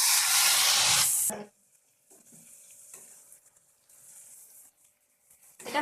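Spice paste sizzling loudly in a hot pan while cooking potol dorma, a strong hiss at first that drops sharply, then softer intermittent sizzling and stirring sounds.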